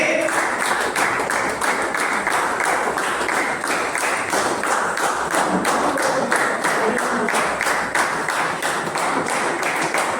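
A crowd at an organic farming training session for farmers claps steadily in rhythmic unison, fairly loud and continuous from start to end.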